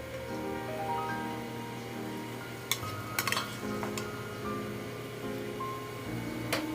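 Pork stomach going into a boiling pot with pickled mustard greens and being stirred: steady bubbling simmer underneath, with several sharp metallic clinks and scrapes of a utensil against the pot in the middle and near the end.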